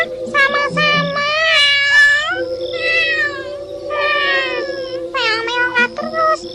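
A voice imitating a cat in a children's storytelling performance: a string of drawn-out, wavering meows with rising and falling pitch, loud and close, repeated in several bursts with short gaps.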